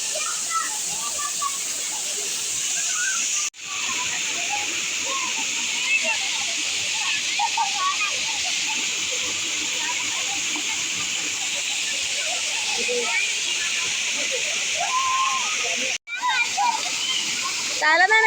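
Thirikakayam waterfall pours in a loud, constant rushing roar of cold water, steady throughout, while children and adults talk and play nearby.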